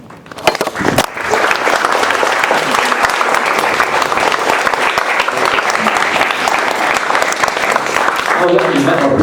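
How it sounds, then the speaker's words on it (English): Loud, sustained applause from a dinner audience thanking Dr. Shen, starting just after a brief moment of talk and holding dense and even to the end. "can we please give Dr. Shen a round of applause for his time"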